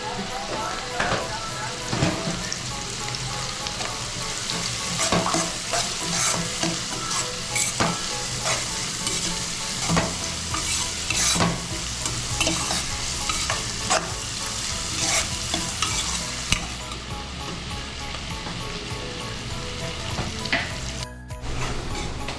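Curry leaves and turmeric sizzling in hot oil in a pan for fish curry, a dense steady crackle with frequent stirring scrapes, a voice talking over it at times.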